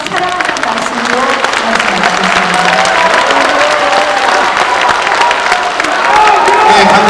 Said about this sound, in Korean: 여러분 다시 한번 뜨겁게 박수 부탁드립니다